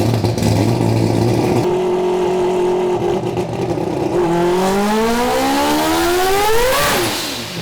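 A four-rotor rotary engine in an all-wheel-drive car screams on a dyno, holding a high rev before sweeping upward in a loud, rising wail that peaks and then drops off near the end.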